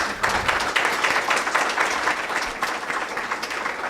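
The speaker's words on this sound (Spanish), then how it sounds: "gracias a Dios le damos estos aplausos" A church congregation applauds in a dense, steady wash of many hands clapping at once. The sound is loud and sustained throughout with no talking.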